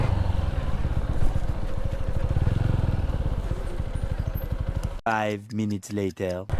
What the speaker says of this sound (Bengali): বাইকটা আমাকে পার্কিং করতে হবে মাঠে পার্কিং করি